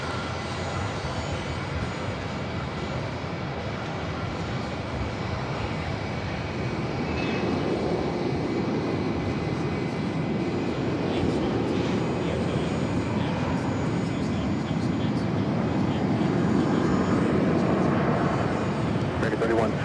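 An American Airlines Boeing 737-800 arriving from Chicago at Phoenix Sky Harbor gives a steady, broadband jet roar that swells partway through and holds loud, with radio voices talking over it.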